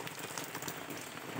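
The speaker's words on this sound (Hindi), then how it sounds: "हर तरफ बारिश हो रही है" Steady rain falls all around during Holi, making a dense, even patter with no voices, fairly soft and continuous throughout.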